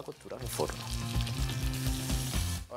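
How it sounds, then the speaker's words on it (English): Veal browns in hot oil in a pan with a close, continuous sizzle and crackle, while a voice murmurs faintly over the frying throughout. "When the oil is hot, I can start browning the meat."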